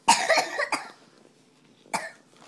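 Two bursts of coughing: a quick cluster of harsh coughs, then a single cough after a short pause, fairly close and clear.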